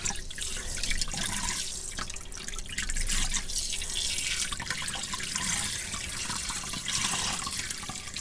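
Tap water running and splashing into a sink while clip-in hair extensions are rinsed, a continuous close hiss with irregular gurgles and drips, no voices.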